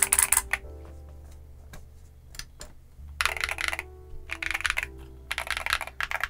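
Typing on an MMStudio Class80R2 mechanical keyboard, close and crisp, with quick bursts of keystrokes separated by short pauses and a few isolated single clicks.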